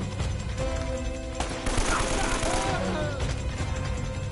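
Gunfire in Uncharted: The Nathan Drake Collection on PS5, a dense, loud run of shots and clattering weapon noise that swells in the middle, with game effects around it.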